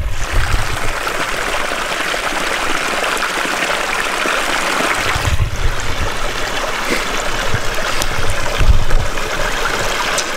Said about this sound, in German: eiskaltes Wasser aus einem Bach trinken